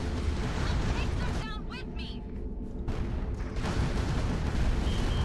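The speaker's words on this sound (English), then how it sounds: "Mortar." Heavy, continuous battlefield rumble from mortar and artillery fire in a large video game fight, dense and loud throughout with a brief dip in the middle, under a talking voice.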